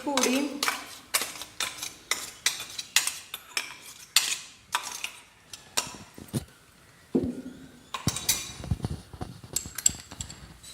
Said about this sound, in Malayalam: ഒരു ടീസ്പൂൺ ഉപ്പും കൂടെ ഇട്ട് ഞാൻ നല്ലതായിട്ട് ഞവടി വയ്ക്കുന്നുണ്ട്